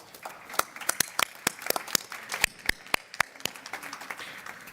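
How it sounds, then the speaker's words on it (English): Sparse applause at an international forum on racism and discrimination: a modest number of individual claps ring out separately in an uneven rhythm, fairly close and quiet, with no talking. "Give her an applause worthy of a champion."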